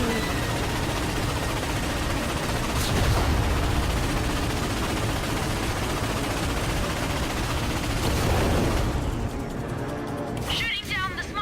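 Gunfire and blasts from the Ratchet and Clank video game as small ships are shot down: dense, continuous rattling shots with a couple of heavier explosive bursts, ending in a brief electronic warble.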